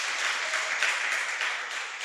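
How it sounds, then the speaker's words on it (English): Bootcamp participants at a vocational training centre clap for themselves, a soft, steady patter of many hands heard from some distance, filling the brief moment without voices. "So, participants, clap for yourselves."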